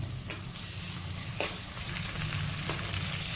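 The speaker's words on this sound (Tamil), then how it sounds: "வெங்காயம் இந்த அளவுக்கு நல்லா வணங்கினதும் இஞ்சி பூண்டு போட்டுக்கலாம்." Onions sautéing in a pan for paneer biryani, a steady close sizzle and crackle with a few soft stirring scrapes, no voices.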